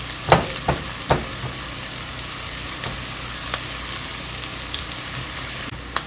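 Kale soup ingredients sizzle steadily in a pot while being stirred, with a few sharp clacks of the spoon against the pot near the start and scattered softer knocks later, moderately close with no talking.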